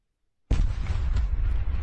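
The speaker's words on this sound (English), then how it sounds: "We can see the explosion go off." An explosion goes off during a Ukrainian ambush on Russian forces, a sudden loud blast after silence followed by a sustained rumbling roar with crackle that carries on to the end.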